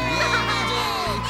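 A crowd cheers and whoops loudly in one brief sustained roar, backed by steady music.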